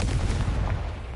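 A Confringo blasting spell explodes in Hogwarts Legacy, a single loud, close boom that fills the whole short moment with rumbling, dense noise.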